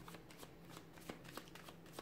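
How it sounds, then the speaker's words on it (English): Tarot cards being shuffled by hand nearby, a quiet run of soft riffling flutters with several sharper snaps at irregular intervals, heard alone without speech. "let's go ahead and give the cards a shuffle"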